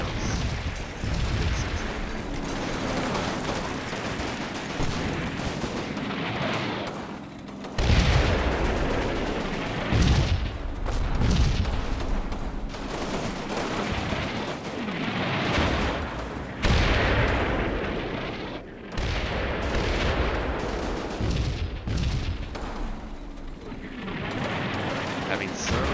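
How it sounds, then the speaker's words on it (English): Anti-tank gun in the video game Combat Mission firing, with heavy booming shots and blasts recurring every few seconds across a dense, rumbling battle soundscape. "Let that AT gun engage with its AT rounds."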